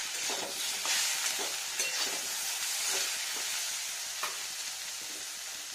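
Vegetables with salt are stirred in a frying pan over a steady sizzle, with repeated scraping strokes of a spatula at an irregular rhythm, close and clear with no talk.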